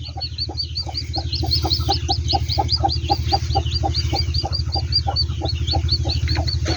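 Rapid, steady peeping and clucking from a hen and her chick on a farm, with constant low machine hum beneath the birds throughout.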